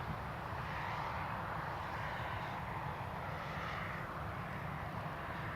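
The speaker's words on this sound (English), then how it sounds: "You can just see the Emirates coming into view." Emirates airliner approaching Newcastle Airport from a distance, a faint, steady broadband jet engine roar with no distinct peaks, heard alone.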